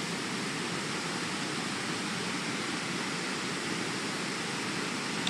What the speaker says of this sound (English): I finally made it up to that waterfall.